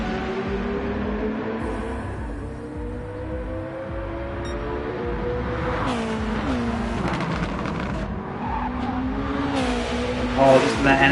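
A Honda NSX race car in Gran Turismo 7 holds a steady, droning engine note that rises and falls through gear changes as it laps the Sardegna circuit, while a commentator talks over it throughout.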